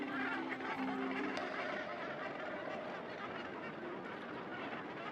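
Northern gannets calling at a crowded island nesting colony, a dense continuous wash of harsh honking cries from many birds near and far.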